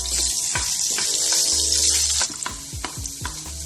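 Garlic sizzles loudly and steadily in a hot pan while cooking ampalaya con carne, with scattered clinks and stirring scrapes breaking through the frying hiss.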